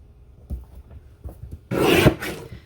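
A paper trimmer slices through a sheet of scrapbook paper in one short, dry rasping stroke, preceded by a few light taps and handling noises.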